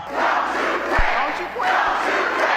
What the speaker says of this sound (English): "Don't you quit," they chanted.